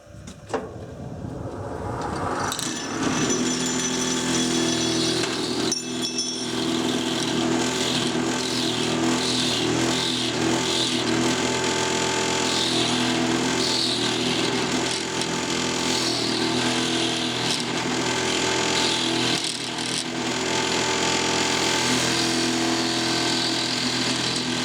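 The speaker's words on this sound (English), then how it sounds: "Just going to sharpen this tool a wee bit." A woodturning lathe tool is sharpened on a grinder, giving a steady, dense grinding whine that runs close and loud without a break, with no voices over it.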